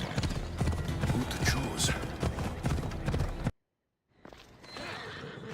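Horse hooves clip-clop steadily in a fantasy adventure game set in the Fields of Elysium, with a horse whinnying and a voice speaking over them, then the sound cuts out briefly before quieter ambience returns.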